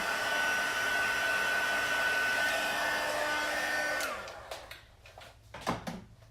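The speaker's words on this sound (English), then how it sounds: "this is a heat gun that I'm using" Steady, loud rushing whine of a heat gun blowing air for about four seconds, then it cuts off, leaving a few clatters and handling noises.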